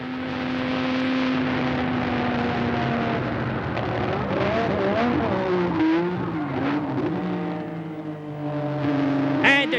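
Formula 1 car at Imola accelerating uphill toward Piratella, caught onboard: a loud, steady high-pitched engine whine that rises and falls with gear changes and pitch sweeps, ending in a sharp upward rev.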